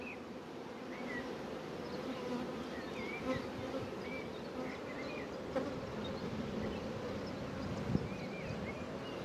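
Many honeybees swarm around a beehive, making a dense, continuous buzz. Individual bees drone past close by now and then.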